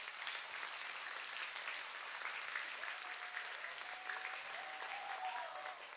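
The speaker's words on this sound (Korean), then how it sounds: "하나님께 영광의 박수 올려드립니다." Steady applause from a children's congregation at a Friday evening church worship service, dense and even throughout, with faint tonal voices or music emerging in the latter half.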